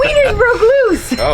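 Dachshunds loose outdoors after wind blew the door open, one whimpering and yipping in rising and falling whines, close and fairly loud, with excited human voices around.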